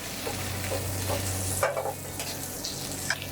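Chicken sautéing in butter in a frying pan over gentle heat, a continuous close sizzle with a few soft clinks and scrapes of a utensil, no talking.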